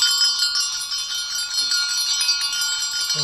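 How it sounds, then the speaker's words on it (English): Large, heavy sleigh bells shake steadily, producing a dense, bright, continuous jingle of many clattering bells, loud and close, with no voices. "Those are the biggest, heaviest sleigh bells I've ever seen."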